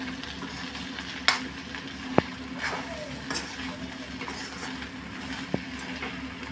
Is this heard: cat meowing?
no